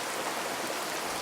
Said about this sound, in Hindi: बारिश खिड़कियों पर ऐसे गिर रही थी जैसे कोई मुट्ठियों से मार रहा हो।